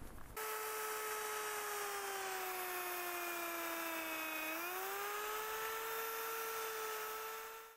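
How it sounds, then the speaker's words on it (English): A power drill whines steadily while pre-drilling screw holes in a wooden mason bee hive, one sustained high-pitched run whose pitch dips briefly midway as it bites, then recovers before stopping. "now I'm going to pre-drill the screw holes"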